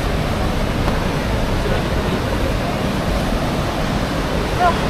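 The Lower Falls in Johnston Canyon roar as a steady, broad rushing of falling water, continuous and fairly loud throughout with no clear voices.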